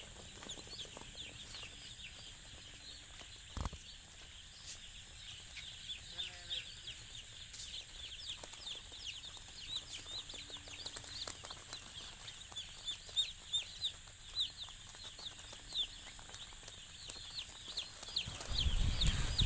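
Broiler chicks on their first day in the shed chirp in a continuous high, busy chatter, moderately close, over a low background hum. Occasional clunks are heard, and a loud rumble comes at the end.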